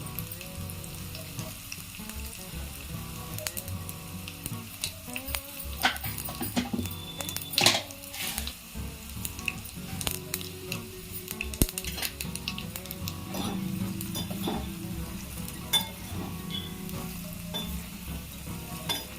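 Cumin, mustard seeds, dried red chillies and coarsely crushed garlic sizzle and fry in a pan for a Rayalasema garlic chutney powder, with steady crackling and occasional stirring scrapes and clinks throughout, no speech.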